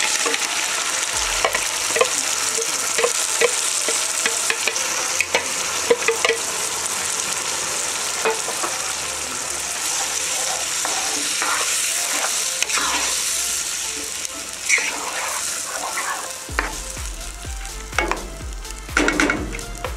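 Onions frying in a pan for a pizza tomato sauce as tomatoes go in, a loud, dense close-up sizzle with stirring scrapes, turning into bursts of spatter and crackle toward the end.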